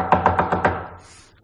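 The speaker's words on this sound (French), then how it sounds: "Et le vendredi, on frappa à la porte de la chambre de Hans." A run of five sharp, evenly spaced knocks on a bedroom door, close and fairly loud, followed by a faint fading tail with no voices.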